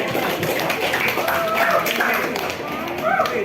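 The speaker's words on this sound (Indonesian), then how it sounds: "Yang berikan aplaus untuk kelompok 2." Audience applause for a student group in a classroom coaching and supervision session, scattered claps running through the whole stretch with voices and chatter mixed in underneath.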